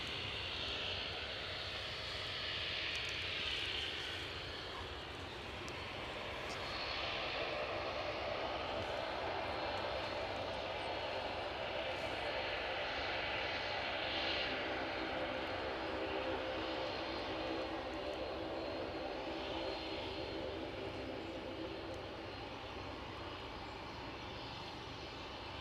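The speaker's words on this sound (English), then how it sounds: "So the inbound aircraft, an ATR 42-500 inbound from Sunborough" An ATR 42-500 turboprop airliner arriving at Aberdeen airport, its steady engine drone sustained and fairly loud throughout, swelling slightly as it nears, with outdoor ambience and no talk.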